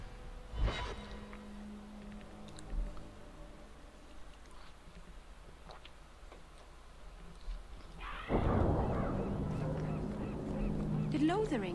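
Ducks quack in the Dragon Age 2 video game: a few short honking calls over muted ambient game sound, followed by a louder, denser burst of sound late in the clip.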